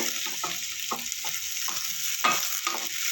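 Onions frying in a pan, a continuous bright sizzle close by, with repeated scraping stirring strokes of a spatula in an irregular rhythm over it, no voices.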